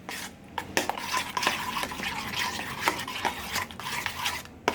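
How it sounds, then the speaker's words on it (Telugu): Cream churned by hand with ice cubes into homemade butter, giving a continuous wet scraping, stirring rhythm with light clinks of cubes against the bowl, close and steady throughout. "ఐస్ క్యూబ్స్ని యాడ్ చేసిన తర్వాత ఈ విధంగా కలుపుతూనే ఉండాలండి."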